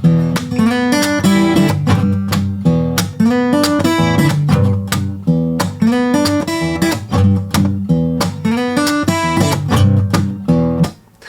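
A blues guitar riff played at full speed, a loud, close, driving pattern of repeating strummed chords and single-note runs in a tight rhythmic groove, ending with a fade.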